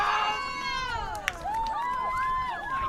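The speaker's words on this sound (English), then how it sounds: "the crowd here at Sewanhaka loves what they saw" A high school boys varsity football crowd at Sewanhaka cheers steadily after a touchdown pass in the Garden City game, a loud sustained roar with shouting, heard alongside broadcast commentary.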